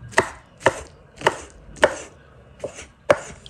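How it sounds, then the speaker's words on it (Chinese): Shiitake mushrooms are diced with a knife on a cutting board in six distinct, evenly spaced chops, each one crisp, close and fairly loud, with short silences between them. "然后切成小丁"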